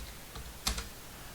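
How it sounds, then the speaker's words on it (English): A few quick keystrokes on a computer keyboard while typing a date command, two close clicks standing out briefly against a quiet background. "if you have to set the date, you have to type the command date"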